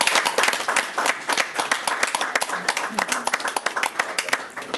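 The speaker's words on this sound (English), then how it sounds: "Let's give him one more round of applause." Audience applauding at a county board of education special meeting, a dense patter of many hands clapping steadily for several seconds at moderate volume in an indoor room.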